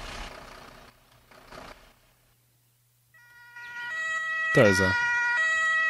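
A wailing emergency vehicle siren from the Emergency 4 video game starts up after a short lull and keeps sounding steadily, with a loud horn-like blast partway through; someone speaks briefly beforehand.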